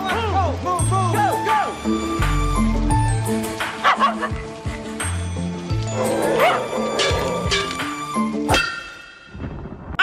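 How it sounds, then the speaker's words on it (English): A dog barks, yips and whimpers close by in a frantic flurry of repeated calls as it attacks, mixed with other commotion and sound effects. "Why'd a dog have to come over here and snatch my man's face like that?"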